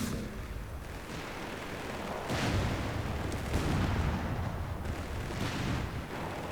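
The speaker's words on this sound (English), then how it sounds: "That's an unmanned machine gun, the Vickers." Booming gunfire and explosions from a Company of Heroes 3 desert battle, where a Vickers machine gun fires. The heavy blasts roll in bursts over a constant rumbling din.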